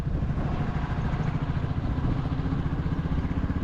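A motorcycle on a long road trip from Pune toward Dharchula in the Himalayan valleys rumbles at a steady, close-up drone, its engine note thick and continuous under rushing wind.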